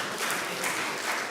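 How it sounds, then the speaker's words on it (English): Audience clapping at a Uganda Medical Association swearing-in and handover ceremony, a steady wash of applause across the whole short stretch with no talk over it. "You are supposed to clap."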